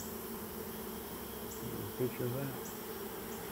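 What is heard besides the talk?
honey bees buzzing near a beekeeper's hand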